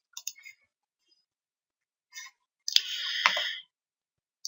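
Computer mouse clicks on a desk, a few sharp isolated clicks with short gaps between them, followed by a brief burst of louder clicking and clatter near the end.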